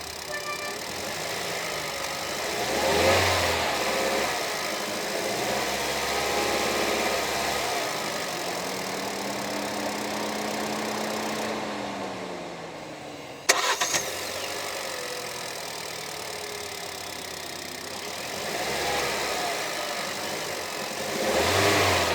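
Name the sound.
Hyundai Creta EX engine started, revving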